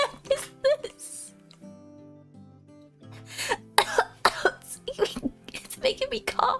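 A person coughs and clears their throat in several bursts between quiet stretches of game music, with speech mixed in near the end.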